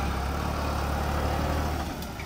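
New Holland 3630 TX and Mahindra tractors plowing a field side by side, their diesel engines giving a steady, continuous low drone at moderate distance.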